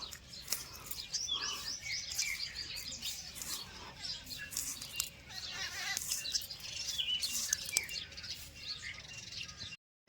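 Pigeons gathering at a Mataji temple as grain is scattered for them, with busy chirps and twitters, light fluttering and pattering close by, fairly faint and continuous.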